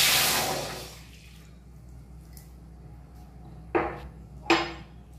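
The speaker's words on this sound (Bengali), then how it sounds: "কড়াইটা গরম হয়ে গেছে, দিয়ে দিচ্ছি জল।" Water poured into a hot kadai on a gas stove hisses loudly at first and fades within about a second, followed later by two short metallic clanks.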